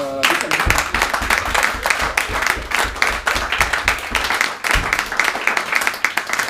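An audience at an improv theatre show claps steadily and loudly the whole way through, a dense continuous applause.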